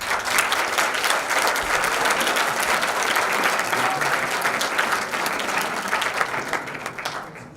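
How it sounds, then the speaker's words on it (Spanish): Audience applause greeting a guest speaker at a leadership and management conference, a dense steady wash of many hands clapping at close range that carries on throughout and tapers off slightly at the end. "Recibimos con un fuerte aplauso a Gonzalo Díaz Báez."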